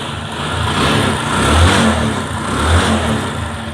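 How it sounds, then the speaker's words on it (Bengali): A Bajaj Discover 135 motorcycle engine with a fault that keeps making it stall runs steadily up close, a low throbbing idle that swells briefly as if lightly revved, with no talking. "ইঞ্জিনের সাউন্ড ঠিক আছে, কিন্তু ইঞ্জিনের সমস্যা দেখতেছি, বারবার বন্ধ হয়ে যাচ্ছে"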